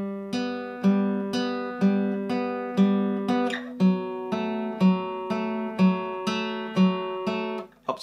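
Acoustic guitar plays the opening two bars of a song from The Greatest Showman, a clear, close, moderately paced picked pattern of ringing notes repeating in even pulses, with no talking.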